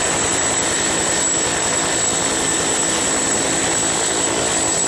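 A green toy military helicopter gives a steady whirring drone that stays constant and fairly loud throughout, with no talking.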